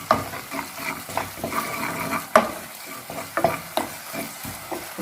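Chickpea manchurian with red chilli sauce is stirred in a hot pan, a spoon scraping and clinking against the metal in uneven strokes over a steady sizzle, with a few sharper knocks.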